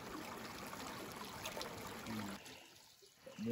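Water of Derebağ waterfall, a steady rushing hiss of flowing water, fairly faint and continuous, thinning toward the end as other faint sounds break in.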